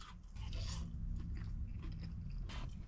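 Close crunchy bites and chewing of Buffalo House Ranch chicken wings, a few crisp bites followed by steady quiet chewing, with no talking.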